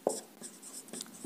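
Chalk or marker writing on a board during a physics lesson on capacitors, a few short scratchy strokes and taps, close and quiet with pauses between them.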